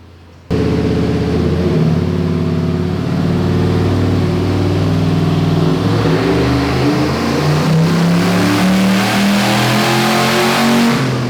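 Turbocharged Chevrolet Silverado with an On3 turbo kit running on E85, its engine revving up steadily and loudly from idle, with rising harmonics and no one speaking.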